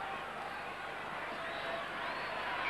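A reasonable crowd at a Manly versus South Sydney rugby league match at Brookvale in 1980 produces a steady, distant murmur of spectators, a faint continuous roar that swells slightly near the end.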